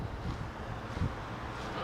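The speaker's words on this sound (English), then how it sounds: "We got some wind." Low, rumbling wind buffeting outdoors, a steady rush with a brief gust in the middle, no voices.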